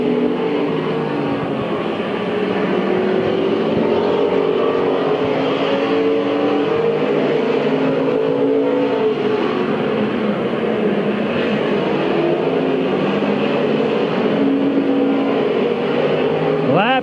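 Race cars roar around Midvale Speedway, a steady, loud wall of engine noise with passing cars swelling and fading, while a track announcer calls the action over the top.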